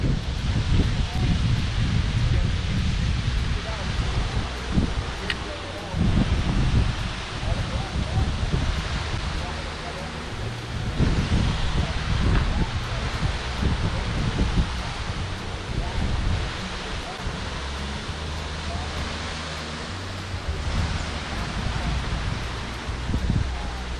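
Strong wind buffeting the microphone in rumbling gusts on a trail in Shenandoah National Park, with rustling noise throughout and a faint voice under the roar.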